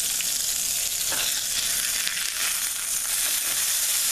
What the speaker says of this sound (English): So let's go ahead and start frying up that burger